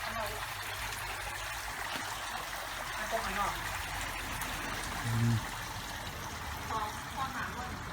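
Water trickles and splashes steadily down an artificial garden waterfall feeding a fish pond at a home, a continuous close flow with a voice talking over it.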